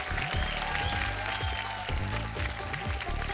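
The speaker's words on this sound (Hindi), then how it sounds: "जोरदार तालियों से स्वागत करें मधु शर्मा जी के" Studio audience on a Bhojpuri TV talent show applauds as a judge is welcomed, a dense wash of clapping under loud, booming background music with bass beats.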